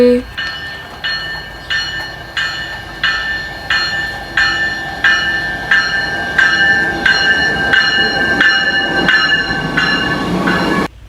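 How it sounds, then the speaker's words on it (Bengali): A train rolls into a station with a steady clickety-clack of wheels over rail joints, rhythmic metallic beats about once a second, loud and close, with a brief voice at the start. "এই যে ট্রেন চলে আসছে"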